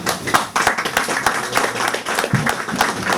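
Applause at a ceremony honoring rescue workers, with a modest group clapping close by in uneven, distinct hand claps that carry on for a few seconds without speech.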